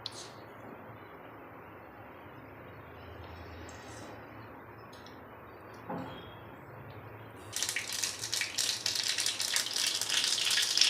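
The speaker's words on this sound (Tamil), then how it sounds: "கடுகு தாளிக்கிறேன்" Faint background hiss, then sudden loud crackling and popping as mustard seeds hit hot oil and keep spluttering to the end.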